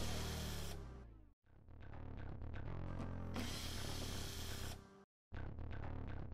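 A power drill whirs steadily as it backs screws out of an interior panel on a 2013 Toyota Highlander, loud and close, with two short pauses between bursts and no talking.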